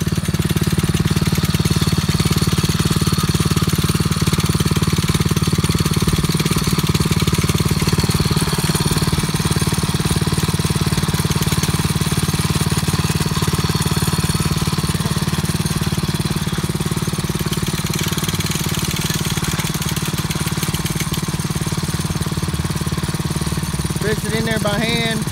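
A DEEPROCK HD 55 Pro waterwell drilling rig, a 2021 model, runs its engine in a loud, continuous, low droning rumble that holds steady throughout.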